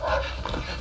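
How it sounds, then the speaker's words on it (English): Dogs come charging in the video game A Way Out, with a brief, close burst of yipping and whimpering over a steady background of game noise. "here come the dogs"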